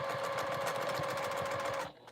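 A sewing machine stitching a quilt runs with a fast, steady mechanical hum and rapid rhythmic clatter, close and continuous before stopping abruptly near the end.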